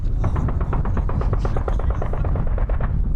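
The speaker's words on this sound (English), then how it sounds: "We think it's the rebels firing back at Gaddafi forces." Rapid bursts of automatic gunfire from Libyan rebels firing back at Gaddafi forces during a battle, a dense rattling series of shots that stays loud and sustained throughout.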